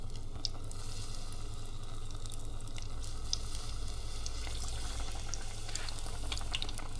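Battered gummy shark fillet sizzles steadily in a pot of hot oil, a constant close crackle and hiss with scattered pops across the whole stretch and no voices.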